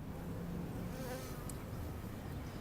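Honeybees buzz steadily around an open hive during a late-fall inspection, a soft, continuous drone with individual bees whining closer now and then, and no voices.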